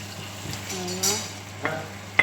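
Chicken and vegetables fry gently in a pan as tomato goes in, a soft sizzle under a few utensil scrapes and knocks, fairly quiet and close.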